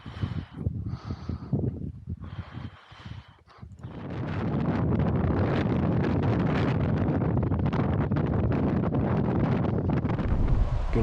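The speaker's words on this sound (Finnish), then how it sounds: "Kyllä on mahdoton tuuli täällä rajapään huipulla, että toi poroaitakin ihan vinkuu tuossa takana." Strong wind roars across a fell summit near a reindeer fence, gusty buffeting at first, then building into a loud, constant rushing blast against the microphone.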